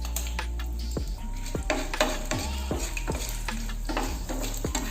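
Coriander (dhania) seeds fry and pop in a pan under steady sizzling, with repeated stirring scrapes and clinks of a utensil against the pan, close and busy.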